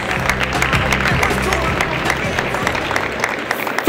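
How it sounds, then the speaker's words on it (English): A crowd applauds award winners at a kitchen and bath industry show's booth awards, a steady wash of clapping under a low hum and some voices. "Let's give another round of applause for all of our winners."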